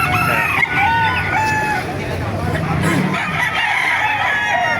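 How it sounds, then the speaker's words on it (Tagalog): Roosters crow over a steady din of clucking fowl at an open-air chicken market in Baliuag, one long crow standing out near the start while other birds keep calling throughout. "Kaya pakita ko na lang sa inyo mga manok dito."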